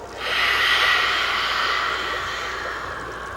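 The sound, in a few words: ocean-sound breathing exhales imitating waves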